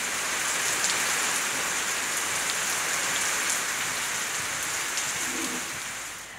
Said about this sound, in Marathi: अशा पावसाच्या तुरळक सरी काही ठिकाणी जरी बरंच आहे